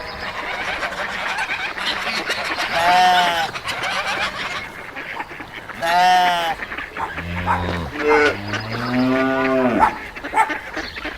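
Several loud, drawn-out cow moos close by at a ska festival, with one lowing call rising and falling after another over steady crowd noise.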